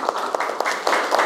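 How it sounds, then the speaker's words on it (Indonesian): A class applauds a group of students, a short burst of scattered hand claps indoors, fairly close. "Kita beri tepuk tangan ya untuk kelompok 1"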